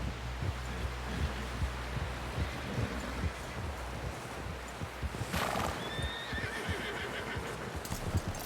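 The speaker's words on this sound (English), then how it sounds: "Someone help John down off this horse." A horse in the video game Red Dead Redemption 2 neighs loudly over steady hoof clip-clops and a rushing outdoor ambience, followed by a brief whistling whinny.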